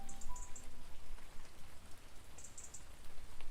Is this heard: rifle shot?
no